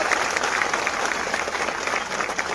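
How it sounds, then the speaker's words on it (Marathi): Dense, steady applause from a crowd of students at a rally against the government, with many hands clapping together in a continuous roar and no pauses for its full length. "त्या पोलिसांसाठी एकदा जोरदार टाळ्या होत्या"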